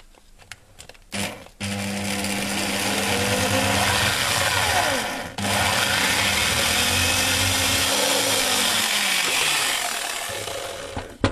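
A power drill bores a hole in a project box for a potentiometer, starting with a few brief taps before a steady, loud whirring grind that runs for about ten seconds with a short break midway, then winds down.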